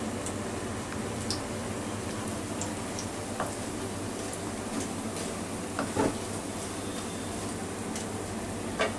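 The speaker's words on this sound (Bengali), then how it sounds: "পকোড়িটি আমার মিডিয়াম ফ্লেমে এদিক ওদিক করে উল্টে পাল্টে ভাজতে হবে" Garlic leaf pakora fries in oil in a pan over a medium flame, giving a soft, steady sizzle with occasional faint ticks and pops, close and quiet throughout.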